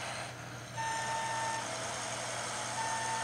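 A bus reverses in Bus Simulator 2015 with a steady engine hum beneath a repeating electronic reversing beeper, the tone sounding in long regular pulses, moderately quiet and alone.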